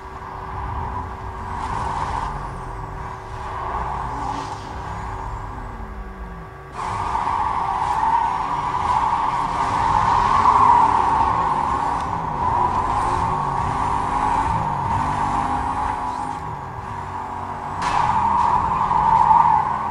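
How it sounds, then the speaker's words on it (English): Drag race cars in the video game Need for Speed Most Wanted (2005) roar steadily for the whole stretch, engine drone holding with tire squeal and skidding over it, getting louder partway through and building again near the end. "I know that's a drag race."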